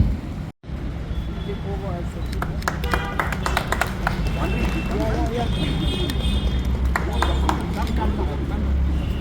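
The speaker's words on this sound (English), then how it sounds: "Let's give a huge round of applause as we have the Honorable Chief Minister who is coming to the event." An audience at the inauguration of an automated multilevel parking facility in Shillong claps for the arriving Chief Minister, scattered sharp hand claps mixed with voices and talk throughout.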